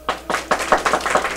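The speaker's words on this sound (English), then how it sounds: "Stop the applause." A theatre audience applauding on cue at a Halloween show, a brief burst of crowd clapping with a few sharp claps at the start swelling into dense, fairly close applause.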